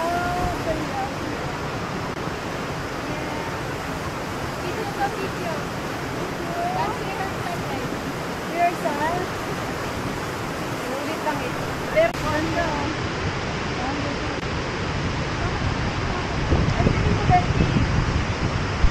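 Steady rushing water from a waterfall at Cat Cat Village in Sapa, Vietnam, makes a broad, continuous roar with some wind-like noise and faint scattered sounds throughout.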